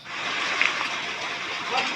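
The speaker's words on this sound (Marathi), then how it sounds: "तर एवढा पाऊस पडतो आहे ना" Heavy monsoon rain falls steadily near a house, a continuous hiss of drops on surfaces filling the short span at even loudness.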